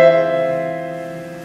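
A sustained operatic chord with an eerie, unsettled quality rings out and slowly decays over a second and a half, several tones sounding together with no voices.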